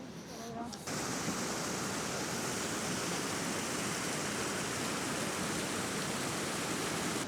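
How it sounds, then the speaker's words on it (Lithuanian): Heavy water thunders steadily at one of Europe's most powerful waterfalls in Switzerland, a dense, loud roar that kicks in after a brief quieter moment and holds unbroken. "kad jis yra vienas galingiausių krioklių Europoje pagal vandens tėkmę."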